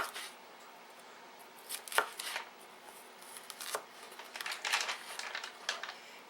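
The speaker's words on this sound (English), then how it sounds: "I'm just going to slice up the peppers about like that" A knife slices through two peppers on a board, cutting them into big pieces for a steak-and-onion dish. A few crisp, separate chops sound close and fairly quiet, with faint handling noise between them.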